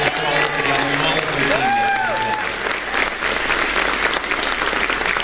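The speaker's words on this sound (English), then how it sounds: "Could you give Dr. Stacy and Brent a nice round of applause for that" Audience applause at a business presentation event, a thick wash of clapping with a few voices calling out over it near the start.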